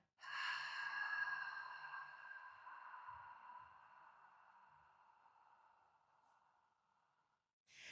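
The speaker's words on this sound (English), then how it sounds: "on your exhale, I want you to now imagine you're trying to fog up a window or a mirror. And so the exhale is going to be a bit louder." One long, loud breathy exhale, like fogging up a window or mirror, comes during a core stability exercise routine. It starts strong and fades slowly over about seven seconds, with a faint breath at the end.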